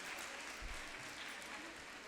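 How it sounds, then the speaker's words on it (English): Steady, dense clapping from an audience at a school foundation day event after a stage performance, continuous and even throughout, with a voice faintly present underneath. "they deserve an even more thunderous round of applause"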